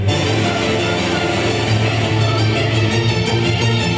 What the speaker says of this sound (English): start with devastating strings, crushing brass, and hellish choir